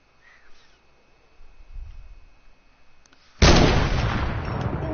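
A single loud shotgun blast in a video game bursts out suddenly after a few seconds of faint low rumbling, its broad roar lingering and decaying slowly to the end.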